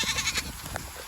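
A goat bleats a few short times close by, with rustling and low outdoor noise underneath.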